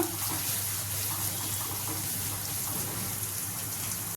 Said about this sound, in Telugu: ఒక రెండు స్పూన్లు నూనె వేసుకొని అందులో పోపు దినుసులు ఒక ఎండుమిరపకాయ ఒక కరివేపాకు రెమ్మ కొంచెం ఉల్లిపాయలు కట్ చేసుకుని వేసుకొని ఫ్రై చేసుకుందాం